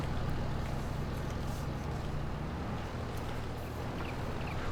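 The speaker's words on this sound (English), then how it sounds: "And now, I just need to get the tractor out of here." A tractor engine in Farming Simulator 22 drones steadily at moderate distance, a continuous low rumble with faint mechanical rattles and no talking over it.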